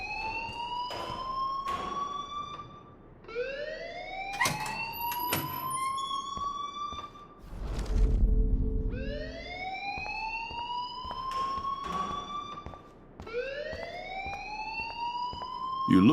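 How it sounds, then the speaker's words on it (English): A school alarm rings in the Life Is Strange video game, a rising electronic siren-like wail that repeats in regular sweeping cycles, with a low rumble briefly swelling between cycles and no voices. "please turn off that alarm since that's your job."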